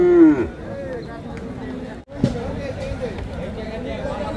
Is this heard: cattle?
yes